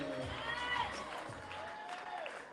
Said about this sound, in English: If you could please keep that applause going for Cruiser Kid.